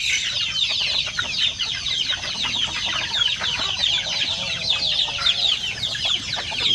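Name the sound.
hungry chickens clucking at feeding time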